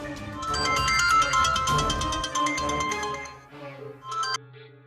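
A mobile phone ringtone plays loudly in an office as a rhythmic repeating melodic tone, with a low hum and some background noise beneath it before it cuts off.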